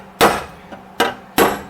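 Three sharp hammer blows on a welded steel floor pan of a Datsun 280ZX, loud and close with a faint tap between, each strike ringing briefly before decaying.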